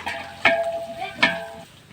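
A kilo of sliced onions frying in oil for biryani, with a steady sizzle broken by two sharp stirring clatters partway through, close and moderately loud, fading toward the end.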